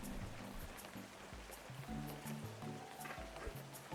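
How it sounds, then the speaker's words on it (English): Rain falling in the Webfishing video game, a steady wash of patter with scattered droplet ticks and a soft low rumble throughout, with no voices. "And it's raining again."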